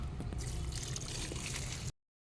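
Homemade liquid fertilizer from kitchen compost is poured onto garden plants, a soft, continuous splashing stream of liquid close by, steady for about two seconds before stopping abruptly.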